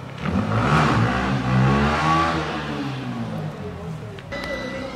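Motorcycle engine, a KTM Duke, starting up and revving for a few seconds, loud and close with a steady rumbling drone that swells then eases before shutting off.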